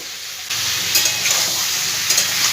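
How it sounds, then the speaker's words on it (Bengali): Chopped tomato hits a hot pan of spices for a Bengali vegetarian mixed-vegetable dish and breaks into a loud, steady sizzle that continues close up, with faint stirring scrapes and no talk. "এবার আমি এর মধ্যে একটা বড় সাইজের টমেটো ছোট করে কেটে রেখেছিলাম, সেইটা সম্পূর্ণ দিয়ে দিই।"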